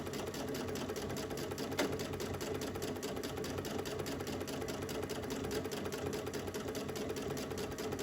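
A sewing machine stitching fabric for a Kindle sleeve, its needle chattering in a fast, steady rhythm at an even speed, close and continuous with no talking.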